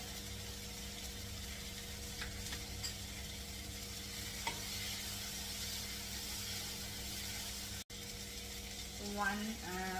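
Chilli powder and spices sizzle in a pan for a mixed dal fry, a steady soft frying hiss with some stirring scrapes, close and moderately quiet, with a brief voice near the end.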